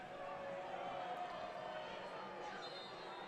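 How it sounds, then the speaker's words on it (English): Seneca Valley fans boo from the stands at a high school football game against Central Catholic, a faint, distant and steady wash of crowd noise. "we can hear them booing from the stands"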